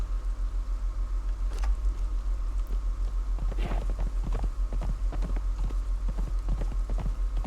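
Hooves clip-clop in a steady riding rhythm as a horse is ridden in Conan Exiles, the sharp hoofbeats close and regular over a loud low hum, with a brief louder scuffle partway through.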